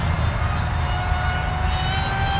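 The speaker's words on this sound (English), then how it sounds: "Coming back around with full power." An r/c MIG-X1 model jet flying at full throttle makes a steady, continuous engine roar with a high whine layered on top. It holds at even loudness throughout and is heard alone.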